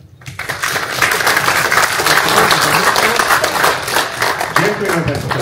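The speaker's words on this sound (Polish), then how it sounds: "dla wszystkich obecnych zdecydowanie duże brawa" Loud, dense applause from those present at a Polish panel on armed forces modernization and the domestic defense industry, rising quickly and continuing steadily, with some voices mixed in under the clapping.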